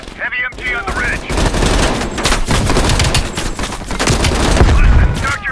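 Heavy machine gun fire in the Call of Duty: Cold War video game, sustained loud rapid bursts from a gun on a ridge filling almost the whole stretch, with dense crackling shots after a brief lead-in.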